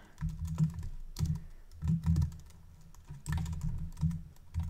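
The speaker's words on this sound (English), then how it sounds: "And then I start typing sentences." Someone types sentences on a computer keyboard, producing bursts of quick key clicks in uneven clusters with brief pauses between them, close and fairly clear, with no talking.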